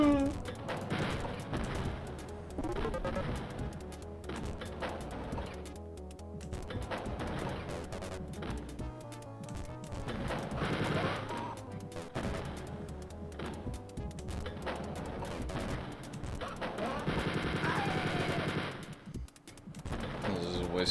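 Gunfire in the 1992 first-person shooter Wolfenstein 3D rings out in repeated bursts over the game's music and effects, a dense, continuous mix of shots and thuds, with a voice talking at times.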